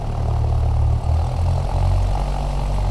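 A small propeller airplane taxiing, its engine droning steadily and loudly at low power close by, with a slight dip in pitch partway through.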